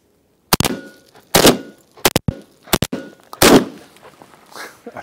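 Beretta 1301 Competition shotgun with full choke firing 28 gram loads of 7.5 shot, five loud sharp blasts in quick succession with short echoing tails, no talking.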